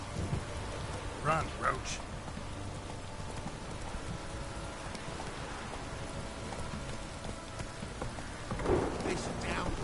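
Steady heavy rain hisses throughout a downpour in The Witcher 3: Wild Hunt, with faint hoof clops and brief spoken lines rising over the constant wash.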